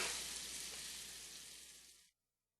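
Striped bass sizzles steadily in a hot pan, a close, bright crackling hiss that fades slightly and then cuts off abruptly.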